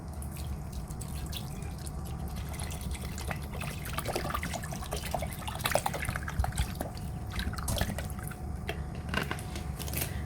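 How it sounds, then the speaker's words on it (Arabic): Water running into a cooking pot holding raw chicken set up for boiling, a steady trickling and dripping flow with small splashy bursts, close by and continuous with no talk. "بس بنغمرها بمي"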